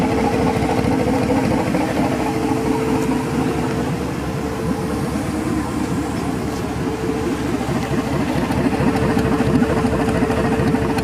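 An LS V8 engine swapped into a third-generation Pontiac Firebird idles steadily at close range, its exhaust a deep, lumpy burble that stays even throughout with no voices.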